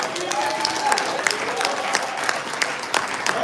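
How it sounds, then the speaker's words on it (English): People at a Nigerian community gathering in London applaud, with dense clapping and a few sharp individual claps standing out, while a voice rises briefly over the noise of the crowd. "Applause for this wonderful woman"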